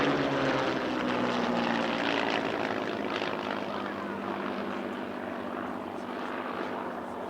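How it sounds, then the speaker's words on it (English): A Spitfire and a Hurricane of the Battle of Britain Memorial Flight fly a display at an air show, their piston-propeller engines giving a steady, full drone that fades slightly over several seconds. "a three-ship display from the Battle of Britain Memorial flight featuring a Spitfire,"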